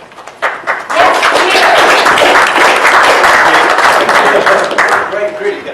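Audience applause at a business talk welcoming a speaker: a few scattered claps build within a second into dense, loud, sustained clapping that holds steady to the end.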